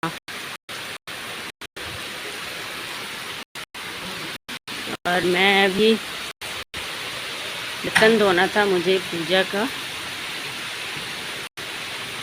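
Heavy monsoon-style downpour pours steadily as a loud, hissing wash of rain, continuous throughout, while someone speaks over it in Hindi in two short stretches.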